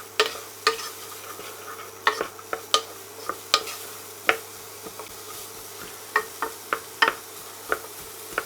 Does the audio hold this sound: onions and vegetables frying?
yes